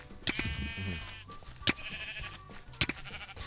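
Sheep in the video game Minecraft bleat a few times over a short stretch, mixed with game sounds and background noise, with some faint voices present.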